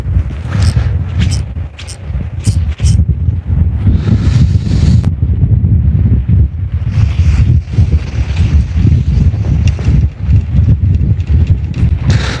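Strong wind buffets the microphone on a harbor breakwater at Hupo port during night fishing, a loud continuous roar and rumble with gusty surges and a few sharp clicks early on.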